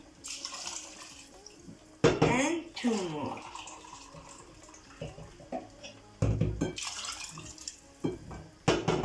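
Water splashes and pours into a cooking pot with rice and lamb in a few bursts, with a person talking over the running, bubbling liquid.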